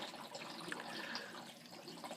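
Water pours and trickles steadily into a DIY trickle tower sump tank, a faint, continuous splashing hiss with no talk.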